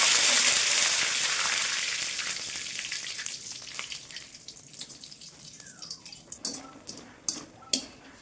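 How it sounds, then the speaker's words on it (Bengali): Bitter gourd leaves hitting hot oil in a pan, with radhuni, dried red chillies and bay leaves added for tempering: a loud burst of sizzling that gradually fades into quieter crackling and a few sharp pops and clinks. "রাঁধুনি, শুকনো লঙ্কা, তেজপাতা ফোড়ন দিয়ে দিচ্ছি"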